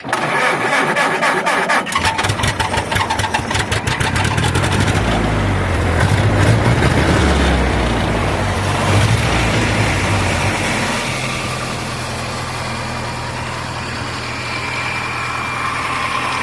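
An old Ford Model A engine, hard starting, cranks with a rapid starter chatter, then catches and runs unevenly before settling into a steady idle, loud and close.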